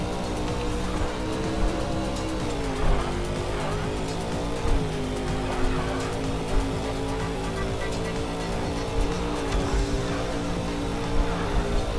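Racing cars in the combat racing video game GRIP: Combat Racing roar with a steady, loud engine drone, gear shifts changing pitch and occasional tire squeals and impacts over twelve seconds, no voices.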